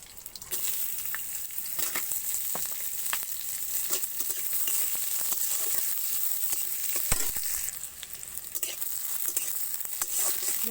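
Chopped onion fries in hot oil over toasted panch phoron, dried chilli and bay leaf, giving a close, continuous sizzle broken by frequent light scrapes and taps of a stirring spoon.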